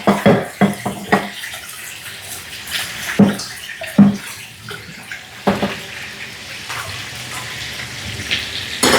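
Running water splashes and spatters steadily as something is rinsed, with irregular clatters and bumps mixed into the stream.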